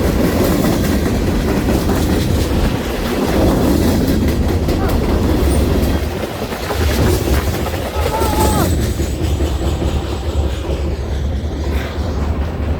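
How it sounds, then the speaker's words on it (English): A caboose train rolls past loudly and close, a continuous rumble with rhythmic clickety-clack of wheels on rails and a faint metallic squeal near the end. "here comes the caboose"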